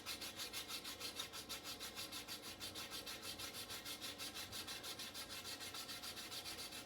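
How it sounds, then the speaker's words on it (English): A fine silver coin ring is worked over with a sanding block, giving close, steady back-and-forth scraping strokes at a quick, even rhythm for the whole stretch, with no talking. "sanding block and smooth it out"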